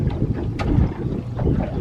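Big outboard motor pushing a boat across a windy lake while checking catfish jugs, a steady low engine drone blended with gusty wind buffeting the microphone, close and continuous.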